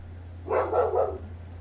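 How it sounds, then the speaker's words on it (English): Dog barking in an L.A. Noire game session, a quick run of three close barks over a steady low hum, then quiet. "Sorry, dog's barking."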